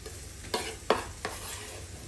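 Minced garlic stirred into a sizzling onion mixture in a pan, with three sharp scraping strokes over a soft, steady frying hiss, close by and with no talk.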